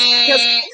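A short, loud electronic buzzer tone, steady and harsh, sounding for under a second before cutting off.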